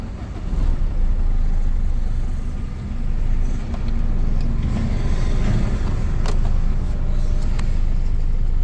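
A Maruti Swift diesel engine runs with a steady low rumble and clatter, close and fairly loud, holding an even idle after a brief dip near the start.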